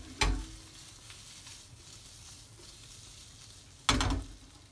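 Shrimp sautéing briefly in a pan for shrimp and salmon ravioli, two sharp sizzling bursts as they hit or are stirred in the hot fat, with a quiet low sizzle in between.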